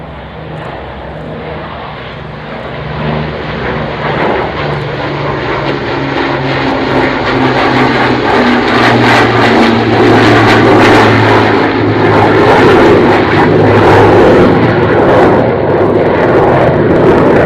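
Memorial flight aircraft making a single flypast: a loud, steady propeller engine drone that builds and holds close overhead for the whole stretch, with no voices.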